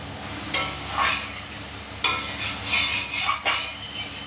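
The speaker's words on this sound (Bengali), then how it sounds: "মাছ আর বেগুনটা দিয়ে দিলাম।" Sizzling in a pan jumps up three times as pieces of puti fish and eggplant are dropped into hot mustard sauce, each burst of frying hiss tapering off.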